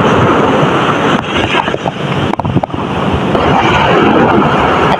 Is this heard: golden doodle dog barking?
no